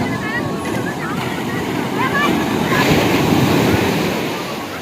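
Ocean waves wash onto the beach at Digha in a continuous loud rush of surf with wind buffeting the microphone, swelling slightly toward the middle.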